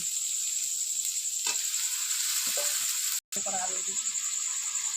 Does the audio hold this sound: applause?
no